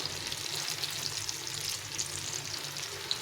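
Pakoras crackle and sizzle in hot oil, a dense steady frying hiss with small pops scattered throughout, close and moderately loud, with no talking.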